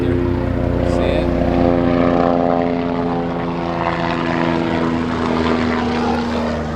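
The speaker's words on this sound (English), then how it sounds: "helicopter. See it?" A helicopter passes overhead near a lot where work trucks are gathering. Its steady, droning rotor and engine noise stays loud and continuous throughout, with a throbbing low hum and no pauses.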